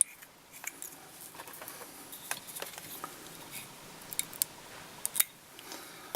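Small scissors snip and trim material while a salmon fly is tied, making soft, crisp clicks and nips scattered irregularly over a quiet background.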